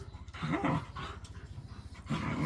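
Two dogs scuffle close by, with rough growls and heavy panting in bursts that rise, ease and then flare again, and no human voices.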